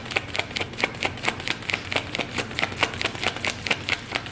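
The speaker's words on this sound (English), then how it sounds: "I want to make sure that you guys don't mind the shuffling." Tarot cards are shuffled in a steady run of crisp, rapid riffling clicks and snaps, close and continuous, with a low hum underneath and no talking.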